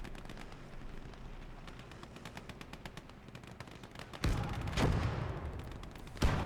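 Tank cannon fire from T-34s in the Gates of Hell Ostfront war game, with steady rattling gunfire through the battle and two heavy booming shots landing later, loud and close.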